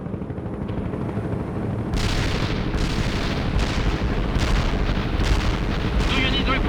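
Artillery fire in the battle game World in Conflict, a dense rumbling barrage of repeated booms and blasts that thickens after a couple of seconds into a loud, sustained roll of gunfire and explosions.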